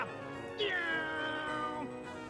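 A cat in the Wallace and Gromit's Grand Adventures video game gives one long, drawn-out meow that rises and then slowly falls, clear and close over faint background sound.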